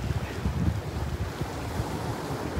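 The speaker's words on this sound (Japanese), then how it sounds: "風で声が聞きづらいとかないですかね" Strong wind buffeting the microphone on the beach near Eboshi Rock in Chigasaki, a steady loud roar of gusts mixed with surf, no voices.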